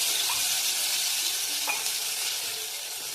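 Crushed garlic fries with cumin and mustard seeds in a pan for garlic rice, giving a dense, steady sizzle close by with a faint clink of a stirring utensil and no voices.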